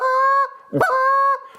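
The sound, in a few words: goose call blown to imitate goose clucks and honks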